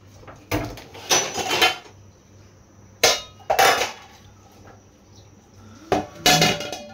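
A metal lid is handled and set on a cooking pot of ginataang crab, giving three separate bursts of clanking and rattling metal, close and loud, with quiet pauses in between.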